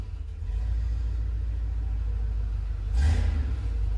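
A lifted truck's engine idles with a deep low rumble, then revs briefly near the three-second mark before settling back, heard close and alone.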